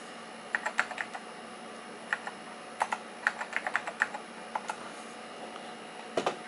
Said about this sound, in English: let's see if we can type